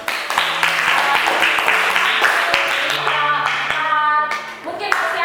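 Classroom applause for a student group, a modest crowd clapping in brisk uneven bursts up close, with voices speaking underneath throughout.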